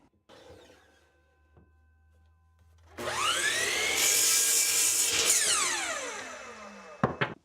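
A miter saw trims wooden bars for a homemade wooden clamp: the blade spins up loud and whining, holds a steady cutting roar through the wood for a couple of seconds, then winds down, with a sharp knock at the end.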